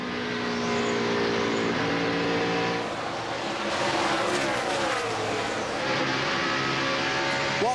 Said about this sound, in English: Now the car seems to be back up to speed again.